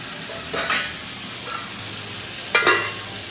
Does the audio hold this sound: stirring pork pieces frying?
yes